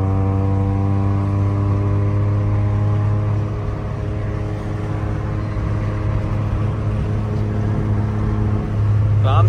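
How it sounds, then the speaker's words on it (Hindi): A car fitted with an aftermarket exhaust drives on a rough road in Islamabad, its engine holding a steady, droning tone with strong harmonics, loud and close from inside the car. "इस टाइम स्टैटिक गाड़ी पे एग्जॉस्ट लगा हुआ है।"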